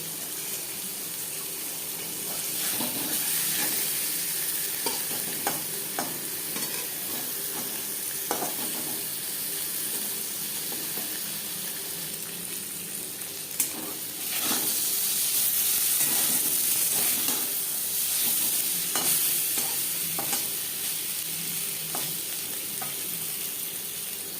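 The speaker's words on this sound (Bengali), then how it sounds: "পনির হালকা করে ভাজা হয়ে গেছে" A steady sizzle of paneer frying lightly in a pan, with occasional stirring scrapes and clinks, close up and with no talking.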